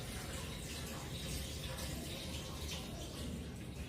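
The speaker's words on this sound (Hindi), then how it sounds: "लगभग 1 लीटर पानी इस चैम्बर में डाल देंगे हम" About a litre of water poured into the chamber of a fumigation machine for an operating theatre: a continuous, even rushing stream of water like a running tap, steady throughout at low level with no pauses.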